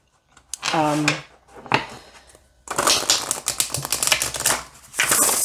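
A deck of thin oracle cards is shuffled by hand, bursts of rapid papery riffling and snapping in close succession, loud and near, with a short spoken phrase early on.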